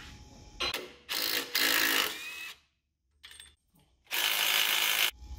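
A ratchet works loose the sway bar link and shock bolts on a Jeep JK, heard as short bursts of quick clicking and whirring separated by pauses, close and moderately loud.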